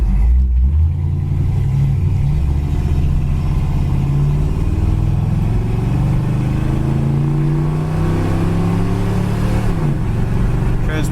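A 1964 Chevy Impala Super Sport runs with its dual exhaust, a loud, close, steady V8 rumble that rises and falls through several gentle revs and shifts, with no talk over it.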